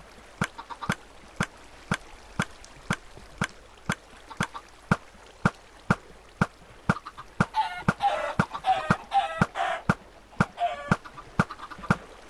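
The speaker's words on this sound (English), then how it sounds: "let's put a few chickens in there just to increase the server lag." Minecraft chickens clucking in a cluster of quick, repeated clucks midway, over a steady run of sharp, evenly spaced clicks throughout, fairly quiet and close.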